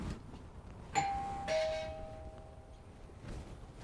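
A single doorbell chime rings out twice in quick succession, a clear electronic tone fading over a quiet room.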